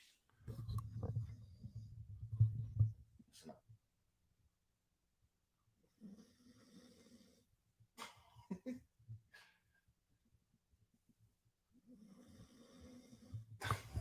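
Panda snoring in bursts of low rasping breaths, a couple of rough inhales separated by quiet gaps, moderately close and fairly faint, with small clicks and shuffling between.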